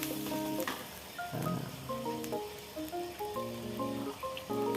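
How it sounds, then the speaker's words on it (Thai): Eggs sizzle and crackle in a frying pan while being stirred for a Thai stir-fry of cucumber and minced pork, a close, steady frying hiss with scraping movements and no talk. "ไข่ก็ค่อยๆคนแบบนี้นะครับ"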